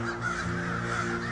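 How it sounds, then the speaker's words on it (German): A raven croaks once in a drawn-out, hoarse call, a rough caw that sounds fairly clear and sustained for over a second. "hört man in der Ferne einen Raben krächzen."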